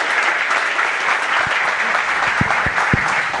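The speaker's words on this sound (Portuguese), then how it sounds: "Eu queria pedir uma salva de palmas para vocês pelo trabalho." A live audience applauds the event team at the close of Bahia FoRTe cycle 1, steady dense clapping filling the room for a few seconds with no talk over it.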